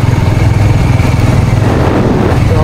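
Motorcycles idle and ride nearby on a hill road, a loud, steady low engine throb with a slight pulsing beat running unbroken throughout, no talking.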